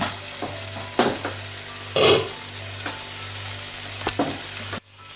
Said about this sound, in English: So now I'm going to introduce my meat, the protein.